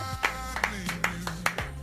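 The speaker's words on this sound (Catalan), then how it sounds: "I jo crec que es mereix un fort aplaudiment." A few separate hand claps, about five of them, come at a fairly even pace in a quiet studio. They are brief, close and moderately loud, with faint background voice.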